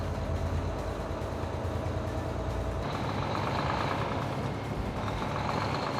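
A Volvo truck with an I-Shift gearbox rolls at low engine speed past parked trucks, giving a continuous, close engine rumble. It shifts in tone partway through as the load changes, with no talk.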